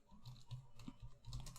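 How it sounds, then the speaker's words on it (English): Quiet, steady keystrokes on a computer keyboard patter at close range in an irregular run of light clicks, with no talking. "Here I am typing"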